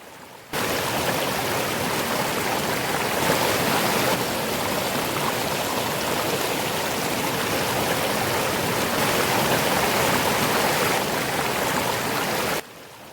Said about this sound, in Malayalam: അപ്പോഴും കോട്ടപ്പുഴ ഒഴുകിക്കൊണ്ടിരിക്കും വളരെ ശാന്തമായി ഒഴുകിക്കൊണ്ടിരിക്കും